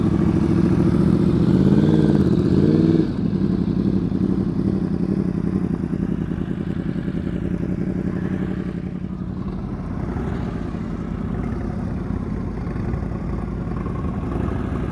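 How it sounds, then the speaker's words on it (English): A motorcycle engine runs steadily during slow-speed riding skills practice around cones, a close, continuous mid-pitched drone with a slight rise in revs early on, then settling into an even idle-like hum. "Start the engine and nearly roll."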